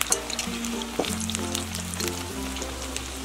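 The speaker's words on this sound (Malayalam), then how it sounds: "ഇതിലേക്ക് ഈ കട്ട് ചെയ്ത് വെച്ചിരിക്കുന്ന ഓരോ പീസ് മാവും ഇട്ട് ഫ്രൈ ചെയ്തെടുക്കാം." Cut pieces of chickpea dough deep-frying in hot oil for a crunchy snack, a dense continuous sizzle and bubbling close up, with a light tap of a utensil partway through and no talking.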